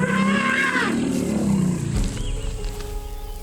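A loud, close elephant matriarch's warning call, a rumble and trumpeting that rises and falls, then drops into a deep low rumble.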